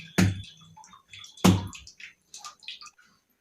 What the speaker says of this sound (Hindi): और नल काफी टपक रहा है, इसको पहले देख लेती हूँ, पानी को वेस्ट नहीं करना चाहिए